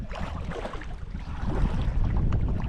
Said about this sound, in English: the wind has really come up